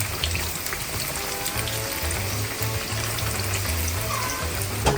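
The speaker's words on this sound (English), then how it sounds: "we're gonna fry plantain medium heat" Plantain slices frying in oil over medium heat give a steady, even sizzle that runs throughout without any talk.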